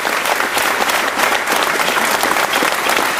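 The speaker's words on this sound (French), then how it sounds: "que je voudrais que vous applaudissiez pour leur courage" A crowd at a political office inauguration in Nice applauds steadily, dense loud clapping running without a break from start to finish.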